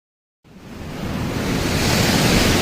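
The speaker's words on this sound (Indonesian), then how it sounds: "tiba-tiba anginnya menjadi sangat kencang" A strong wind rises out of silence and swells into a loud, broad roar that keeps building and holds steady, with no voices over it.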